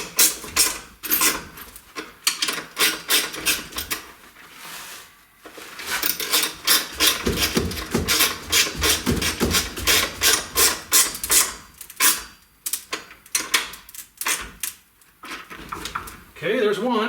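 Bolts on pinball machine legs tightened with a ratchet, rapid clicking bursts repeating in quick runs with short pauses, close and fairly loud, with a voice talking in between.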